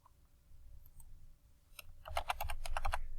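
A quick burst of computer keyboard typing while entering an attribute in AutoCAD, a few scattered taps followed by a dense run of crisp, close key clicks.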